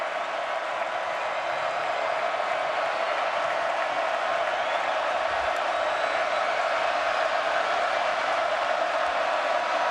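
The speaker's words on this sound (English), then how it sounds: "Crowd on its feet on third down." A college football stadium crowd roars steadily on third down, a dense, sustained wall of cheering and noise with no breaks.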